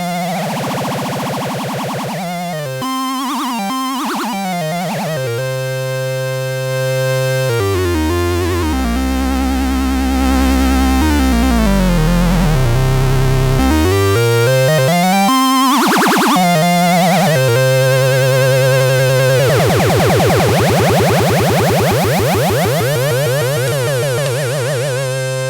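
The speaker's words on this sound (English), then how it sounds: "So here's your oscillators modulating off oscillator 3." Minimoog synthesizer oscillators frequency-modulated by oscillator 3, giving a loud, continuous sweeping and warbling electronic tone that rises and falls in pitch with wobbling harmonics, heard alone without talk.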